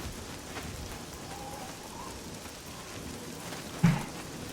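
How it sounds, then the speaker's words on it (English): Rain falling in the video game Oblivion, a soft steady patter and hiss across the whole stretch, fairly faint, with one sharp louder knock near the end. "of course it's still raining"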